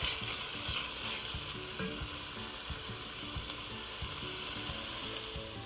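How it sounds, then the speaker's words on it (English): Peppers, green onion and celery fry in a pan with a dense, steady sizzle, alongside occasional soft stirring scrapes, close and continuous with no talking. "Once your peppers, your green onion, and celery start to brown"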